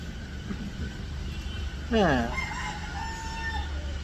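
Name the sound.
rooster crowing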